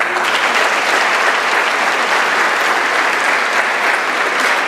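Dense, loud applause from a large audience at the MSMHS 2018 high school graduation ceremony, a sustained wash of many hands clapping with no break for nearly five seconds.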